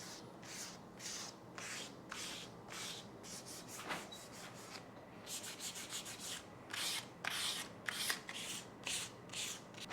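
Wet sanding of a painted wheel with 800-grit paper and glass cleaner as lubricant makes a steady series of soft, rhythmic rubbing strokes, close and moderately quiet, with no voices.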